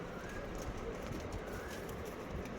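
Andhra Fulsira pigeons coo softly in a loft, faint and close amid a busy background of rustling and shuffling, with no speech.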